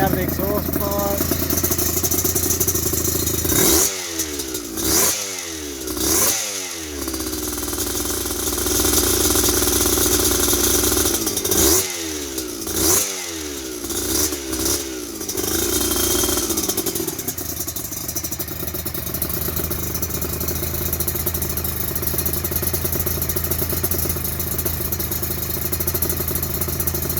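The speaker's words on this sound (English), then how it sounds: "Adjusted the idle and cable so it idles nicely" A 1991 Suzuki RGV 250 VJ22 two-stroke twin with balanced carburettors idling close by, a steady buzzing idle broken by several sharp throttle blips and revs in two clusters, then settling back to idle.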